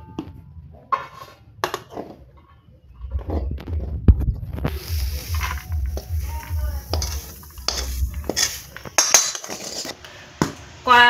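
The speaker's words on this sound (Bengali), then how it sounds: "এখন একটা থালায় আমি নামিয়ে নেব।" Stir-fried dhekia fern greens scraped from a hot wok onto a metal plate, with clattering metal spatula and cutlery clinks over a soft sizzle, several sharp scrapes and taps close by.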